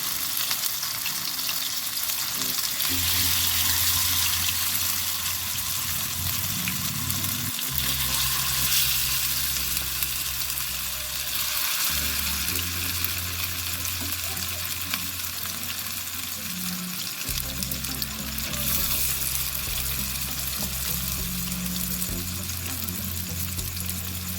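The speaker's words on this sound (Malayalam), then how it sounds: "വെളിച്ചെണ്ണ നന്നായിട്ട് ചൂടായി വരുന്ന സമയത്ത് മസാല പുരട്ടി വെച്ച ചിക്കൻ ഓരോന്നായി നമുക്കതിലേക്ക് ഇട്ട് കൊടുക്കാം" Masala-coated chicken pieces frying in hot coconut oil, a loud continuous sizzle with crackling spatter throughout, accompanied by a steady low hum that drops out and returns.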